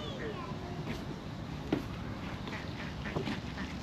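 Wild ducks resting under a bridge, quacking in scattered short calls at moderate distance over steady background noise, with a couple of slightly louder quacks.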